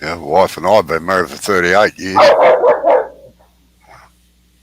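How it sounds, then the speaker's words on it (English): A dog barks a few times in the background, partly masked by someone talking over it at close range. "Yeah, that's my dog."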